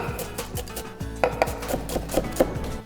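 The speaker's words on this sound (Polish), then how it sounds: "Do mojego sosu potrzebuję cebulkę. Pokroję w grubą kostkę" A knife chops an onion into coarse dice on a wooden board, a steady run of close, crisp thuds and knocks with no talking.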